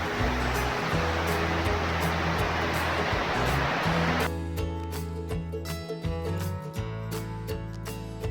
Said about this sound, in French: Petite pluie tropicale avant d'aller se coucher.